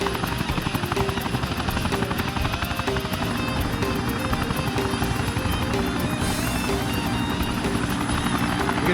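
A helicopter flies close and loud, its rotor chop a steady, dense pulsing drone that holds for the full length with no break.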